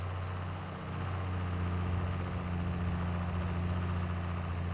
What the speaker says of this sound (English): Ah, what a good tractor.